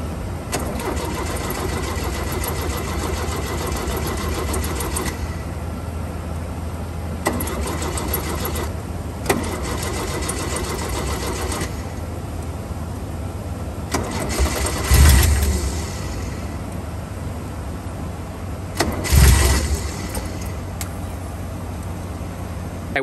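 A 1984 Porsche 944 engine cranks with a steady, rapid mechanical churn over and over, broken by brief pauses and two louder thumping bursts.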